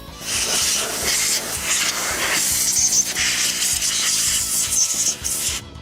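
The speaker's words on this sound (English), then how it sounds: "I'm just going to use our standard can of air and I'm going to go ahead and spray it off." A can of compressed air sprays to clean a Nintendo 64 console shell, giving a loud, steady hiss that runs almost unbroken for about six seconds with brief dips, with no talking.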